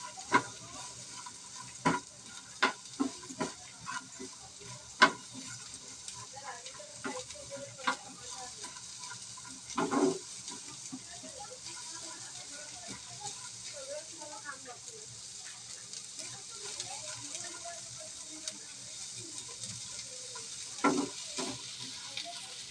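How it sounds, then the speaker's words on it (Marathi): Two finely chopped onions fry and brown in a pan for banana kofta, a soft continuous sizzle broken by occasional sharp scrapes and clicks of stirring. "2 कांदे बारीक चिरून घेतले. थोडेसे ब्राऊन करायचे."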